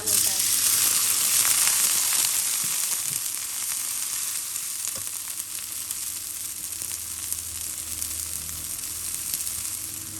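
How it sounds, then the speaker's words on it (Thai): Chili and garlic stir-fry in a pan with a loud, continuous sizzle that eases slightly over time, plus occasional faint stirring, heard close. "จากนั้นใส่พริกกระเทียมลงไปผัด"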